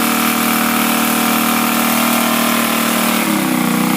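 A motor runs steadily at a loud, close, even drone, then drops in pitch as it idles down near the end, with no voices over it.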